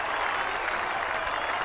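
A football crowd at a 1998 North Melbourne vs Carlton match cheers and applauds a goal, a broad, steady roar of clapping and voices that holds at an even level throughout.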